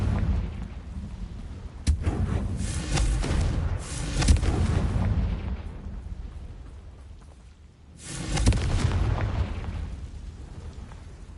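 Confringo spell explosions in the Hogwarts Legacy video game, loud booming bursts with crackling tails, several blasts separated by a quieter lull before a final eruption.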